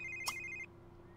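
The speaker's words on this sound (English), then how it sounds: "Can you, like, silence your phone, bro? Because it's really bothering me." A ringing phone in The Sims 3, a short electronic ring with a bright tonal burst, fairly faint over a steady background hum, cutting off partway through.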